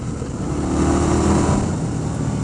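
A 2019 Indian Scout Bobber motorcycle speeds up, its engine a steady loud rumble mixed with heavy wind rush, building slightly in the middle.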